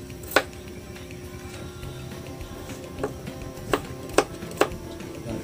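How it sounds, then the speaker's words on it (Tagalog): A knife slicing garlic lengthwise on a cutting board, with a handful of sharp, separate chops spaced irregularly over a low, steady background hum. "Kailangan pahaba yung paghiwa ng bawang."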